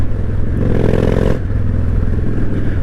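A liquid-cooled 1998 Honda Shadow 1100 motorcycle engine drones steadily while riding, with a low rumbling harmonic tone that rises briefly in pitch midway before settling, loud and close with no talk.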